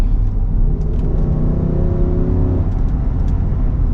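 The V8 engine of a 2024 Nissan Patrol Platinum rumbles loudly and rises steadily in pitch as the car accelerates, heard from inside the cabin with a deep, constant drone.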